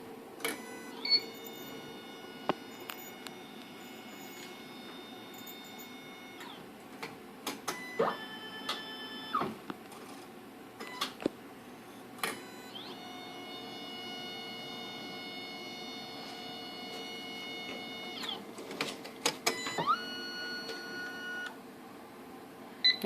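A Santinelli Nidek ME-1000 lens edger traces a frame with a series of electronic tones, mechanical ticks and clicks. The tones come in several stepped runs over steady machine hum, with no talk.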